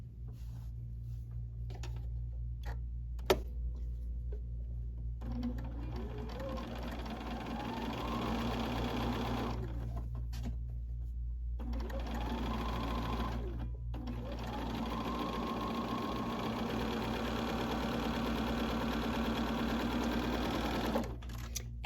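Sewing machine stitching quilt components, several bursts of fast whirring stitching separated by short pauses, with a low steady hum underneath and faint clicks.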